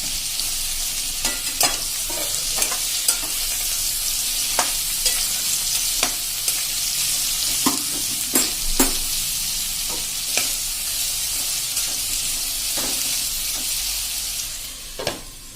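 Ridge gourd fries in oil with a steady, bright sizzle while a spoon stirs it in repeated sharp scrapes and clacks against the pan, close and clear with no voices.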